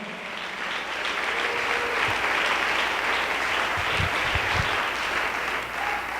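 A church congregation claps for the Lord during a service, a long, steady wash of many hands clapping together, moderately loud and unbroken, with a few low thumps partway through.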